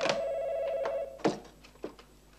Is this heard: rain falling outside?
no